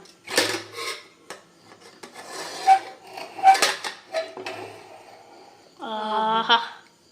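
Metallic clattering and scraping of a pressure cooker lid being worked loose after the steam is released, with mandi rice inside, several sharp knocks, ending with a short rising tonal squeal.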